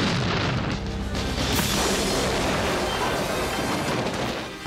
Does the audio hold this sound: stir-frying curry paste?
no